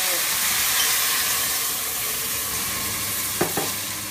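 Loud, continuous sizzling hiss of chicken frying in a hot pan, close up, with a couple of brief clinks near the end.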